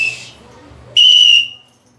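A sharp, shrill whistle blast rings out once for about half a second, preceded by a fainter high whistle, with quiet room noise between.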